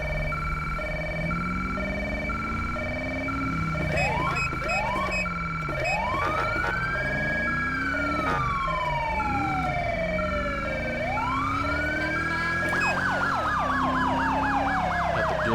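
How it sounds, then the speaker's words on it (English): Two police vehicle sirens in the video game GTA 5 wail together, their rising and falling tones overlapping loudly and continuously, then switching to a rapid yelp near the end. "Got the dual siren kind of going on here."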